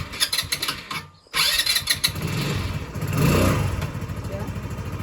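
A scooter engine starts up after a short pause, then settles into a steady mid-pitched running hum with a brief rise in revs, heard up close and alone.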